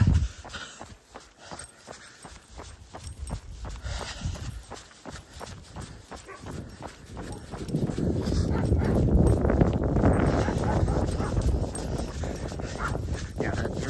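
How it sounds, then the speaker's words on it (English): A shepherd dog barks repeatedly outdoors among running footsteps and ambient noise, the barking growing louder and more continuous in the second half. "Shepherd is always barking at you when you go by."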